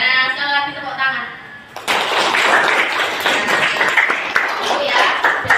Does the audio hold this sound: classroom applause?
yes